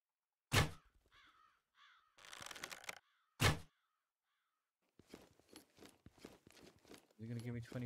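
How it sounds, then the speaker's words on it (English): Crows caw in the video game Jaws of Extinction: two loud, sharp caws stand out among quieter rustles, clatter and footstep-like noises, with a brief voice near the end. "Oh, there's some birds."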